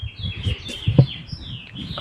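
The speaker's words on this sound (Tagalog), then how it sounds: "pakinggan nyo, merong ano, huni ng ibon" Birds chirp outdoors near a patio swing with a few thin, high calls over faint background noise, alongside soft low thumps and rustling close by.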